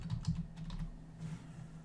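Typing on a computer keyboard: a quick burst of close key clicks in the first second, then sparser, softer taps over a faint steady hum.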